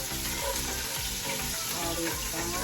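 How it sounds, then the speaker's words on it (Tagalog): Sliced onions sizzle steadily in hot cooking oil in a pan, a dense continuous crackle that stays loud and close throughout, with a few faint stirring clatters underneath. "Dahil mainit yung mantika ko, kaya natunugan."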